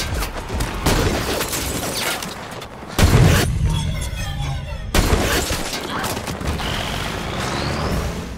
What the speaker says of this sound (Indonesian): satu persatu pasukan Mayor Bidwell harus tumbang akibat serangan tersebut